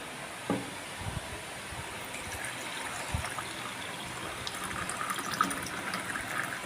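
Sattu sharbat pours and trickles into a container at a modest level, with a few soft knocks along the way.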